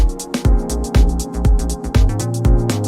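A punchy drum groove with steady kick and snare hits, layered with warm sustained chords, playing loud and upfront with no voices.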